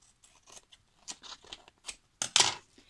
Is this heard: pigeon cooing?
no